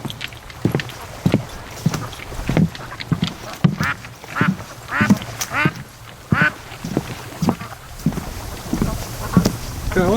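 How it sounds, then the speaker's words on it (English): Ducks quack repeatedly down by the water on a cold day, a series of loud, close calls in irregular bursts, with occasional talking mixed in. "the ducks are doing a fair amount of quacking down here"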